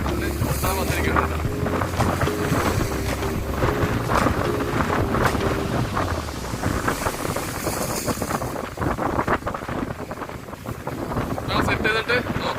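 Strong sea wind blows at Azhikode beach on a sunny day, buffeting the microphone with continuous gusty roaring, while surf and outdoor noise sit underneath.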